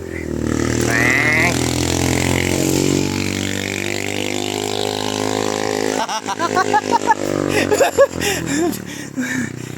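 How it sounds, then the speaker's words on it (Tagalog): A motorcycle engine runs steadily, its low drone changing pitch as it revs and shifts gears, with brief sputtering bursts near the end. "Pakinggan nyo lang yung motor."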